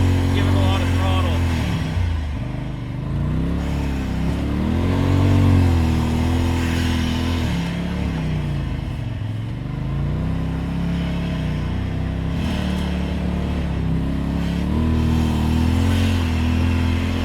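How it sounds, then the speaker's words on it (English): A side-by-side UTV's engine revs hard while it spins donuts in snow, making a loud sustained roar that rises and falls with the throttle, with someone talking over it. "Doing the donuts is tons of fun, but it's a lot of power out of the machine."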